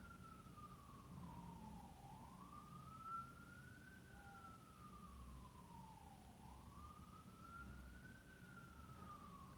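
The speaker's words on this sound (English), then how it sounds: "Okay, police siren." A police siren wails up and down in slow repeating sweeps, faint and distant over a low background hum.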